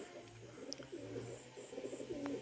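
Racing pigeons coo softly in a loft after their bath, with several low, rolling coos repeating faintly against a quiet background.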